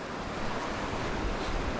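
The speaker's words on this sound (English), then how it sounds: "And there's the creek, flowing well." A creek flowing well beside a hiking trail on the Sheep Bridge / Northside Trail Loop, heard as a steady, continuous rushing wash of water with some wind noise and no voices.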